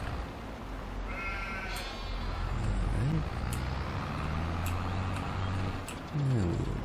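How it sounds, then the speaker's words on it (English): Sheep bleating in Farming Simulator 22, a few curved calls close by around the middle and near the end, over a steady engine-like hum with someone talking in between. "These sheep, they're so curious, eh?"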